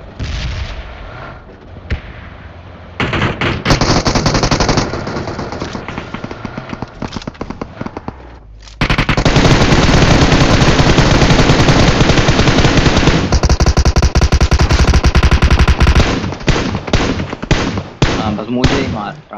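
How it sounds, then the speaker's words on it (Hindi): Tommy gun fire in a video game: long, loud, rapid automatic bursts, close and harsh, broken by brief pauses, with quieter stretches of game noise and some talking in between. "इसको तो मैं टॉमी गन से उड़ाऊंगा"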